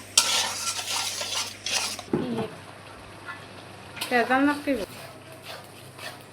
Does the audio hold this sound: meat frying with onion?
yes